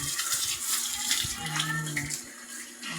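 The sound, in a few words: water splashing while bathing them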